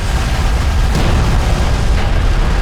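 A light attack vehicle exploding in the strategy game Homeworld: Deserts of Kharak, a loud sustained rumbling blast with a low roar that carries on without a break.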